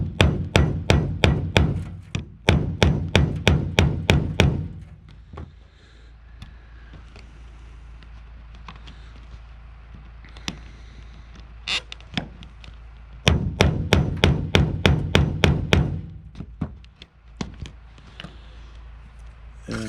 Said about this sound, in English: what that does is flatten that rivet like over, so this snap can't come off